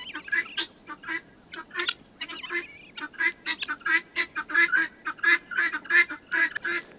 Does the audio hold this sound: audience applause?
no